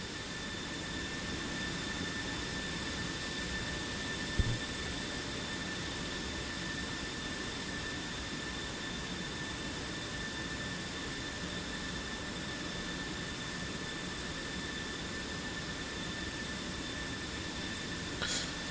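F-16 fighter jet engines in a flight game, a steady, even roar of broadband noise holding at one level throughout, with thin constant tones riding over it and a single brief click partway through.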